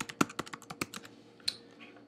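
Keys clack sharply on a computer keyboard in a quick burst of separate taps, close and dry with nothing else sounding.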